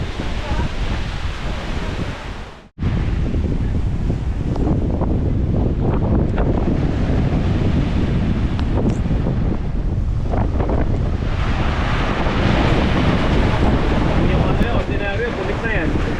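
Strong wind buffeting the microphone in a steady, loud roar on a seaside beach, with the wash of surf underneath and a brief dropout near the start.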